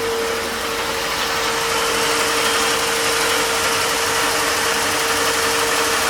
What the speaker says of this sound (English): So once these motors warm up, the idle will settle somewhere in the 600-700 RPM range.